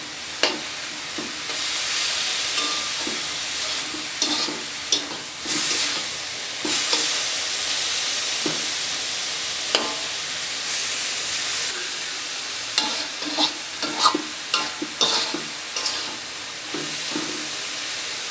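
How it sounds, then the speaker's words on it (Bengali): Spinach frying in a pan with green chillies, onion, garlic and a little salt, a steady close sizzle and hiss broken by repeated scraping stirs, with no talking. "এই ছিল আমার আজকের রেসিপি পালং শাক ভাজি"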